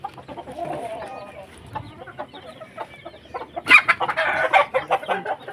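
A breeder gamecock rooster clucks in short, irregular bursts, with a louder flurry of calls near the end, amid faint background farmyard noise.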